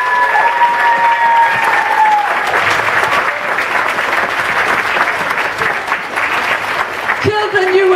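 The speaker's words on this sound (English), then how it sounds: "Can we give Shan a great big clap?" An audience at a children's show with many costume changes claps loudly and steadily for a performer, with an adult voice speaking briefly at the start and again as the applause fades.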